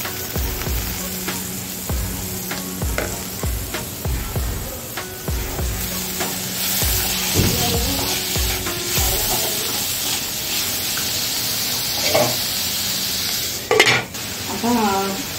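Onion and tomato fry in a pan with a steady loud sizzle, broken by repeated scraping stirs and clinks of a spoon against the pan, plus a sharp burst near the end.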